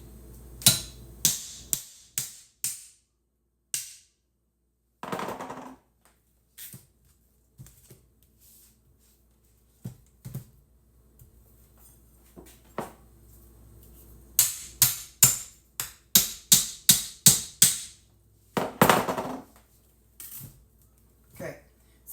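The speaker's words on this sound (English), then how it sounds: "if you have trouble cutting it, get you a meat cleaver and a hammer" A meat cleaver is driven through food by hammer blows, giving repeated sharp knocks in quick bursts with short pauses between them, set against a voice talking at times in the background.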